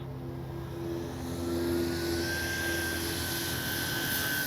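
A Hangar 9 J-3 Cub radio-controlled model plane with a 10cc engine flies overhead, giving a steady, moderately distant engine drone that swells slightly and stays constant throughout, with no voices.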